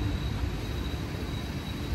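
A Swiss mountain rack railway train between Interlaken Ost and Grindelwald rumbles past, a steady low, broadband roar with a thin high whine and no voices.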